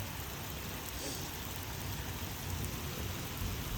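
Steady rain falls as an even, faint hiss of drops on surfaces, continuous throughout with no pauses.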